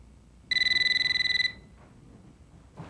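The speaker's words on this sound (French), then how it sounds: "je voulais pas que le téléphone sonne longtemps" A telephone rings in a comedy sketch scene, one sustained electronic trill about a second long, loud and close, followed by quiet room sound and a small knock.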